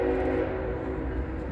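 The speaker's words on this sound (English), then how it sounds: "we get the trains." A train passes near a hillside cemetery above a freeway, a steady low rumble with a sustained horn-like tone, fairly close and without talk.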